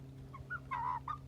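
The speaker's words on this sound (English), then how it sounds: "Well, that's chickens." Backyard chickens make a few brief clucks and a short drawn-out call. The sounds are quiet and close, heard over a low, steady hum.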